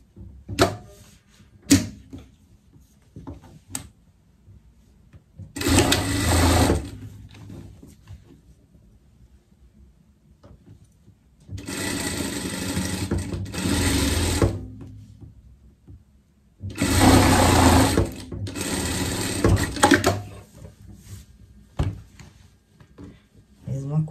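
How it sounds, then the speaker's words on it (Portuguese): Sewing machine stitching the side seams of a Swiss-style fashion pet coat, three sustained bursts of whirring motor noise separated by quiet pauses with handling clicks, fairly close and loud. "costura, costura aqui."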